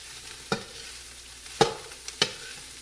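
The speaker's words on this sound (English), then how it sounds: "let me stir this up" A spoon stirs cabbage, onions, tomatoes and beans in a pot, giving three sharp scraping knocks spaced about a second apart against a quiet background.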